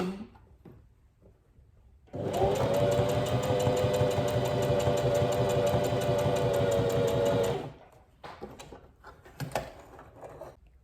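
A domestic sewing machine stitches a buttonhole in fabric, a steady close whirring run of about five seconds, bracketed by quieter handling clicks and shuffling.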